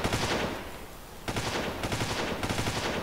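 Rapid automatic P90 fire in the video game R2DA rattles out in loud, dense bursts, a long volley trailing off, then several more sustained streams of shots close up.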